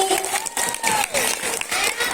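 Schoolchildren at a primary school prize-giving for a Heroes' Day competition clap in a short, dense burst of applause, with a voice speaking over it.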